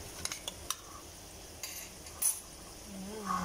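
Canned tuna dropped into hot oil for a simple Filipino home-cooked dish, with a few sharp clatters of utensil and pan early on, then a faint sizzle that builds toward the end.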